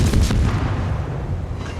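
Warship guns firing in a naval combat video game: a loud, close boom at the start, then a long rolling rumble that slowly fades over the rest of the moment.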